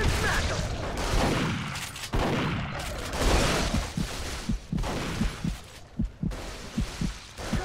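Gunfire in the video game Duke Nukem Forever, rapid bursts of shots over loud, dense game action, followed by a run of regular, evenly spaced thumping reports.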